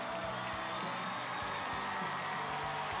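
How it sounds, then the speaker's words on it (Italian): A large crowd of young people and adults at a Salesian gathering in Turin, cheering and yelling as the Pope approaches, a continuous distant roar with no clear breaks. "L'urlo cresce perché il Santo Padre si avvicina."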